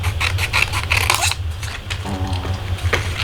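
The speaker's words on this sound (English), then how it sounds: "let's go ahead and cut under this too." Paper for a handmade card being cut, a close run of quick snipping and rasping scissor strokes followed by a softer sliding rustle.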